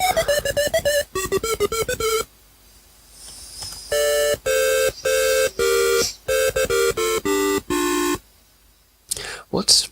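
Short synthesized show-tune melodies from the Apple IIgs game Pick-A-Dilly Pair, bright chiptune-like notes in quick bursts separated by brief silent gaps, with a squeaky electronic flourish at the end.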